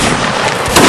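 A short, loud blast of mortar fire in the Napoleonic-era battle game Mount&Blade Warband Napoleonic Wars, a booming burst with a sharper crack at the end.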